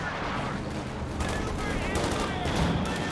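Machine gun fire in Company of Heroes 2, a US versus Wehrmacht match, rattles in dense, continuous bursts with scattered battle noise and faint voices underneath.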